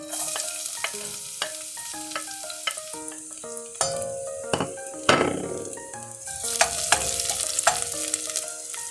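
Garlic sautéing in olive oil for ginisang upo sizzles steadily throughout, broken by repeated sharp clinks and scrapes of a utensil against the pan and a louder burst of frying midway. No one speaks.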